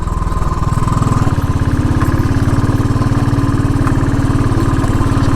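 A motorcycle engine on a rough road in the Darjeeling hills putters steadily at a low, throbbing idle-like rhythm, close and continuous with a slight rattling vibration.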